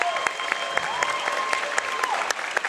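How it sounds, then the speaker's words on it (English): Applause from a live audience at a gaming event main stage at Universal Orlando, a steady sustained clatter of clapping hands with a faint tone running underneath. "Everyone give them a round of applause."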